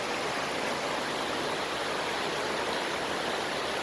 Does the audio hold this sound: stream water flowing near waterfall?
yes